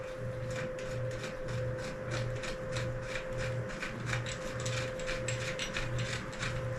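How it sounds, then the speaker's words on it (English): A screw is turned during assembly of a FVZZIN knee scooter, giving a steady series of soft ratcheting clicks over a constant mechanical hum, fairly quiet and close. "let me put the screw on here."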